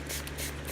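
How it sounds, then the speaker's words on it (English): A quick spritz of hydrogen peroxide from a spray bottle onto a cut Catasetum orchid, a couple of short airy hisses close to the microphone. "just give it a good spray of hydrogen peroxide"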